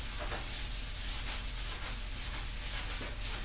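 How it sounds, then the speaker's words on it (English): A cloth rubs sanding dust off a wooden rifle stock from a Traditions Crockett .32 squirrel rifle kit, giving close, rhythmic back-and-forth swishing strokes at a steady pace. "I'm wiping off just the excess sanding dust here"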